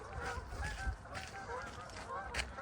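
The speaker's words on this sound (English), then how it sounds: "the Canadian geese have just flown over" Canada geese honking overhead, a scatter of nasal calls over a steady outdoor background, moderately faint and passing.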